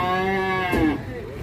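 A large cow, one of the cattle brought for sacrifice, lets out a single loud, close moo with a strong tonal, harmonic call that drops in pitch near the end amid outdoor background noise.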